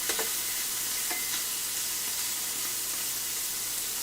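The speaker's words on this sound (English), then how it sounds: "we're going to get this bacon spread out so we have as much of it touching the pan as we can." Bacon strips spread flat in a frying pan, giving a soft, even, continuous sizzle with a few faint crackles near the start, heard quietly and alone.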